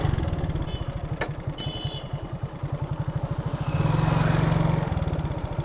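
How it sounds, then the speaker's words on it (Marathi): A motorcycle rides along a road near the Samruddhi Mahamarg expressway, its engine thumping in a steady rapid pulse and swelling louder as it comes close, with no talk over it. "हा जो आता इकडून बाईक आली"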